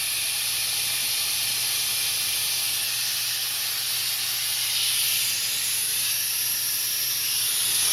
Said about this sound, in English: it looks like the MCS adapter just begun leaking.